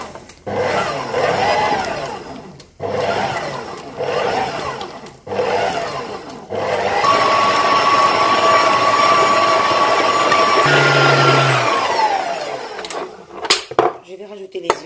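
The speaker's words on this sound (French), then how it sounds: "Et je mets l'appareil à mélanger." Electric mixer beating sablé biscuit dough for chocolate praline cookies: a steady close motor whirr with rubbing, starting and stopping in short bursts before one long continuous run that winds down near the end.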